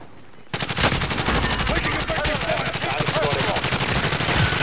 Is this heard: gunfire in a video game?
yes